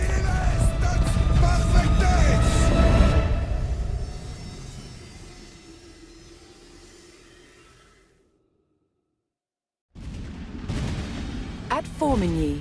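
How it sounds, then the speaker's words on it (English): Cannon fire booms in the Age of Empires IV video game during a Hundred Years War battle at Formigny. Heavy blasts roll out over several seconds and fade to silence before more firing resumes, with a voice narrating over it. "the roar of cannon fire sounded the death knell for England's ambitions in France"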